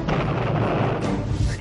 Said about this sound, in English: There's still secondary explosions going on.